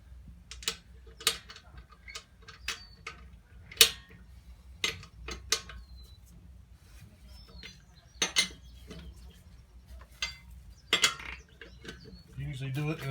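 Sharp, irregular ratcheting clicks come from a torque wrench tightening the lug nuts in a star pattern during a roadside tire change, with separate bursts spread over a low, steady background hum.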